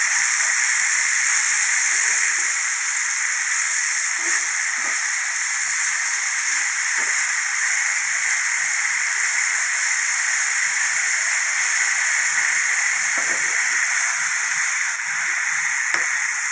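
Boiled amaranth greens and dal go into a hot tempering of seeds and green chillies, giving a soft, even hiss that holds steady throughout with little change in strength.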